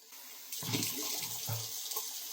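Tap water runs steadily into a sink while someone washes their face during a facial skincare routine, a close, continuous splashing rush with brief louder splashes as hands move through the stream.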